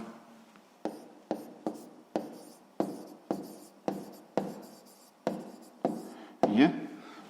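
A hand writes out the answer to a sixth-grade maths exercise on inequalities, about a dozen short, close scratching strokes in a steady rhythm, each a quick burst that fades before the next.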